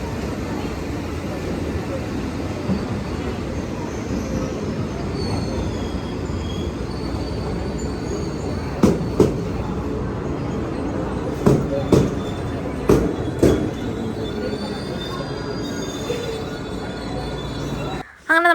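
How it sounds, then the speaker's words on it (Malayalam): A train pulls into a station in Japan, its low rumble building steadily and loudly, with sharp squealing and clacking wheel noises clustered midway through as it approaches and slows. "ഇതേ നമ്മുടെ ട്രെയിൻ അങ്ങ് ദൂരയിൽ നിന്ന് നമ്മുടെ ട്രെയിൻ വരുന്നുണ്ട് കേട്ടോ"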